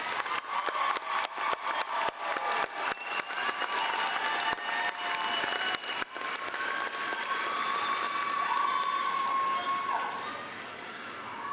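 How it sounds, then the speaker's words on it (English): Sustained applause from a large crowd at a 2023 community college graduation ceremony, dense clapping that swells and holds steady for about eleven seconds with no one speaking over it. "Graduates, join me in a round of applause for everyone who got you to this point."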